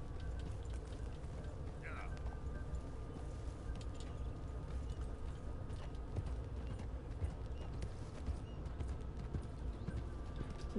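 Horse hooves clip-clop at an unhurried pace in Red Dead Redemption 2, quiet and steady under a low background hum, with a brief bird call.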